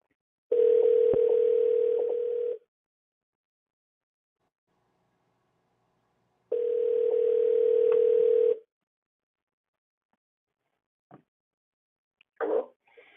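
Two steady telephone dial tones, each about two seconds long, sound clearly with a pause between them while a call back is being placed on a radio call-in line, followed by a couple of brief clicks.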